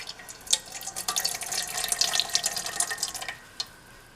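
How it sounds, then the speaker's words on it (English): Water trickles and drips steadily as excess liquid is squeezed through a cloth from peeled pumpkin, close up, easing off into a few last drips. "now we are squeezing the excess water with a cloth."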